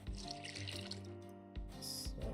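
Brief splashing and pouring water from watering in the video game Sun Haven, soft and close, in two short bursts with a bright chime-like sparkle near the end.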